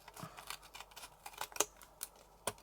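Scissors snip through thick glued card during paper crafting, making a run of sharp crisp cuts and clicks, close and fairly quiet, with no talking.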